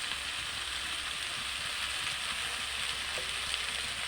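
Pumpkin, taro and fish head with turmeric, tomato and salt sizzle steadily in a pan as they are stirred. The frying hiss is continuous and close, with faint scraping and no voice.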